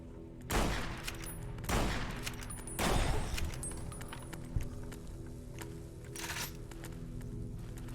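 Bursts of rapid gunfire from a fast-shooting gun in Fallout New Vegas come in about three loud volleys early on, with lighter shots and a later burst over a steady game background.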